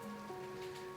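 Steady rain falls as a continuous, faint hiss of drops with no break, carrying no voices.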